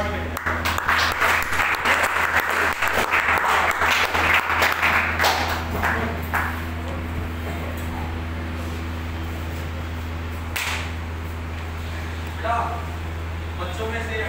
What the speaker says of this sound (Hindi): बाकी एक बार दोबारा मुझे ताली बजाओ